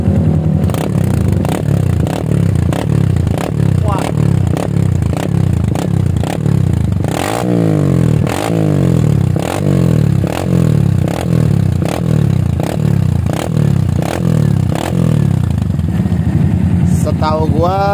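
A Kawasaki W175 motorcycle with a carburetor and aftermarket racing exhaust revs repeatedly in loud, regular bursts, close by, in a workshop, with one sharper rev partway through.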